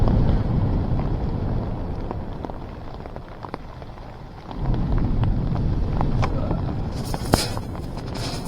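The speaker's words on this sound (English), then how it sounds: "it's freaking raining" Steady rain on Chesil Beach during a fishing trip, a dense loud hiss mixed with buffeting wind rumble on the microphone and scattered sharp patters close by.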